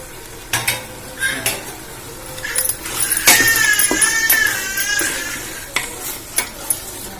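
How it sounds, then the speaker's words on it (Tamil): A metal utensil scrapes and clatters in a pot as mutton is stirred for biryani, with a soft sizzling bubbling underneath; irregular scrapes, close and moderately loud. "மட்டனை போட்டு நல்லா கிளறி விட்டுக்கோங்க."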